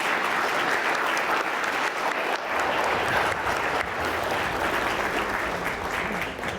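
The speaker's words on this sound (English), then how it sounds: "I will lift my ban on applause so we may thank the candidates" A small audience at a League of Women Voters selectman candidates' forum in Warner gives a steady round of applause, with dense clapping that holds at a fairly even level for several seconds before easing slightly.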